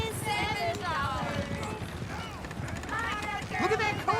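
Horse hooves clip-clop steadily beneath a horse-drawn coach in the Western open-world game Red Dead Redemption 2, the rhythmic clatter running throughout while people talk over it.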